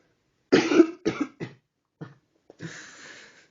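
A person coughs several times in quick bursts, close and loud, followed by a rougher, drawn-out cough with silence between.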